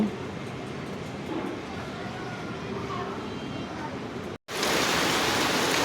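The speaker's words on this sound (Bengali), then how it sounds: "প্রচুর পরিমাণ কিন্তু বৃষ্টি হইতেছে বৃষ্টি পড়তেছে বৃষ্টি পড়তেছে বাতাস হইতেছে" Heavy rain falls with wind as a dense, steady rushing hiss that cuts out for an instant and then returns louder and brighter.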